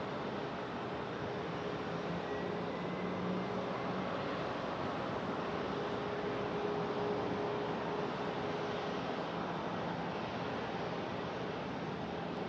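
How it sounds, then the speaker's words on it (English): Delta Airlines Airbus A220-300 arriving from Boston and landing at Raleigh-Durham International, a steady broad jet roar that holds at an even, fairly distant level throughout with no voices over it. "This one landing is Delta Airlines"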